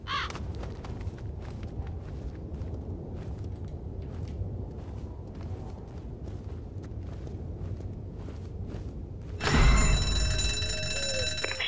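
Rigged supermarket alarm in the zombie video game ZOMBI suddenly blaring as a loud, sustained, harsh electronic ring near the end, after a stretch of low rumbling ambience with scattered clicks.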